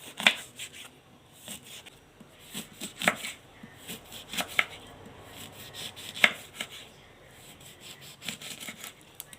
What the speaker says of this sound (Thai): หั่นมะนาวให้หมด